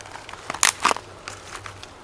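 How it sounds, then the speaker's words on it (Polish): Kindling in a campfire catching and crackling outdoors at a bushcraft camp under a waxed tarp, with a few sharp snaps clustered together and scattered fainter pops around them, close and fairly quiet. "I po długości taki ogień rozpalimy."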